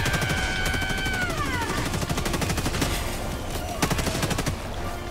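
Rapid automatic gunfire from a weapon in the co-op shooter Helldivers 2, a dense, steady stream of loud shots running the whole time, with a tonal whine gliding downward early on.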